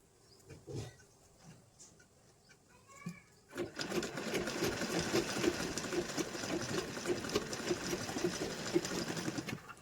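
Quiet fabric handling gives way to an electric sewing machine stitching a saree piko fall. Its close, steady whirring drone carries a rapid mechanical ticking that runs to the end.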